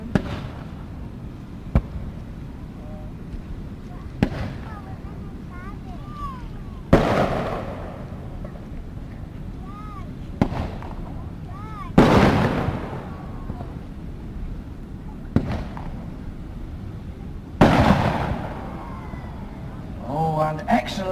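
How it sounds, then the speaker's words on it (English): Pyrotechnic gunfire from a model warship firing on an enemy submarine in a staged naval battle display at Peasholm Park, Scarborough: sharp bangs and bursts every few seconds, some crackling, echoing outdoors, with a voice talking in between. "there's the Jervis Bay, firing on the enemy submarine"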